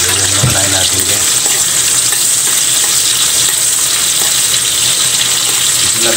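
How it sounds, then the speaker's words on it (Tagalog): Ginger sizzles and fries in a hot pan for tuna with tofu, a loud, continuous crackle with a few stirring knocks near the start. "Igigisa mo tayo ng luya guys."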